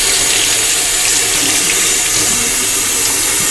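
Lukewarm tap water runs steadily and loudly into a sink while a resin model part is rinsed, a constant close splashing rush with no talking.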